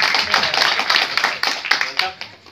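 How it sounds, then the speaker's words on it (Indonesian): Audience at a thanksgiving gathering and constituent meeting with provincial legislators claps in a brisk, uneven patter of many hands, close and steady, with voices mixed in. "Tepuk tangan."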